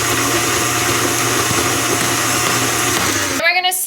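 A loud electric mixer runs continuously through a toffee and butter mixture and cuts off abruptly near the end, with a voice briefly heard at the stop.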